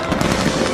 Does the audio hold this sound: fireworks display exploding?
yes